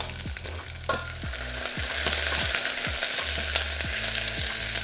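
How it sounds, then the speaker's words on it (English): Onions caramelising in a hot pan on a restaurant stove, giving a loud, continuous sizzle with rhythmic scraping and knocking as they are stirred repeatedly. "starting to get that nice caramelisation on the onions there, and these ones are just sweating down in their own juices"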